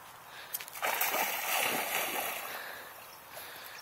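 Shaggy the dog splashes and sloshes while swimming in the Snake River in Idaho, a sustained broadband wash of churning water that rises after a brief pause and stays steady and close, no talking over it.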